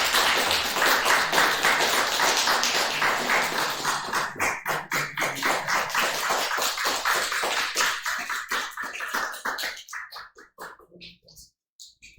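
A church congregation at a Sunday service claps together in a steady, rhythmic burst of applause that thins into scattered claps and fades away near the end.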